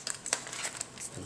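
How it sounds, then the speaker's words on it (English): Packing tape crinkles and rips in short crackling bursts as a strip is pulled and pressed down while wrapping a bundle of comic books, close and fairly quiet. "one more piece of tape"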